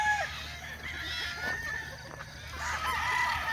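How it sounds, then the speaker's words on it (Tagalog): Young gamefowl pullets penned at a gamefowl festival, with clucking and rooster crowing mixed into a busy background murmur; calls rise and fall at moderate distance over low ambient noise. "Ito yung mga pulet natin, mga classmates."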